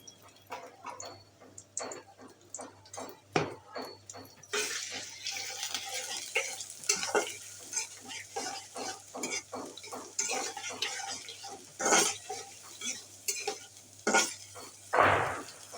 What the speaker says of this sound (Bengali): পেঁয়াজগুলোকে একটু ভেজে নিতে হবে, খুব বেশি না, যেমন কালারটা চেঞ্জ হলে